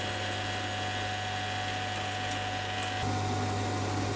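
A lathe faces a metal cap for a slitting saw arbor, a steady mechanical whir with a faint high scraping tone, shifting slightly in pitch partway through; no talking.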